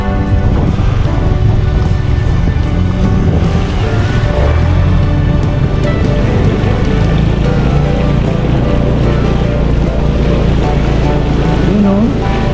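Floodwater from Taal lake washes and splashes continuously around someone wading after a storm, loud and close, with a steady noisy wash throughout.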